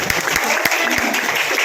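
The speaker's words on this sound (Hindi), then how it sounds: "ताली तो बनता है" A crowd claps in a quick, dense patter at a song release event in Kashi, with a voice talking over the applause.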